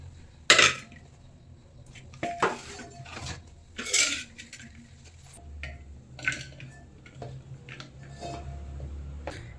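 Chunks of bitter gourd dropped into a metal cooking pot, giving a few sharp clinks and soft knocks at irregular moments, close and moderately loud, with quieter handling noises in between.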